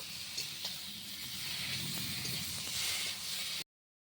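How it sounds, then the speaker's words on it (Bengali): Potatoes and papaya are sautéed in spice paste in a pan for a light rohu fish curry, producing a soft, even sizzle with occasional stirring scrapes, fairly quiet and close, before the sound cuts off abruptly near the end. "এর মধ্যে আলু আর পেঁপেটা দিয়ে দিলাম। আলু পেঁপেটাও ভালোভাবে কষিয়ে নেব।"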